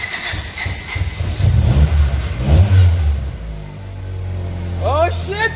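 A car engine fires up roughly after an engine swap, then revs and settles into a rumbling idle close by while excited voices shout over it.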